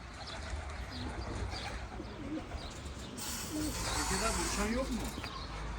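Homing pigeons coo softly in a pigeon loft, with repeated low throaty calls over a faint background, and people's voices murmur quietly in the distance.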